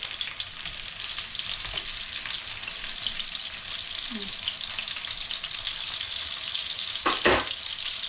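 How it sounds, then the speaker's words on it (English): Lemon slices sizzling and spitting in a Ninja air fryer alongside chicken, a steady bright hiss with a louder crackling burst near the end, close and continuous, no voices. "chuck in the lemon slices. They will kind of spit very hot."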